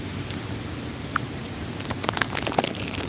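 Rain falls near campus buildings as a steady, moderately loud hiss, dotted with scattered sharper drop ticks and crackles that grow busier toward the end.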